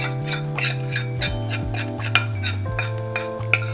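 A metal whisk scrapes and clinks rhythmically against a pot while bacon roux is whisked into milk for a mornay sauce, with steady repeated strokes and a low hum underneath.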